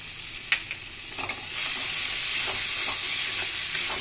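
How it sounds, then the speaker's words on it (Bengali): Ground spices such as coriander with salt and green chilli fry for a minced meat pilau, a spoon clacking a few times in the pan before a loud, steady close-up sizzle takes over with no talking. "মশলাগুলো ভালোভাবে কষিয়ে নেব।"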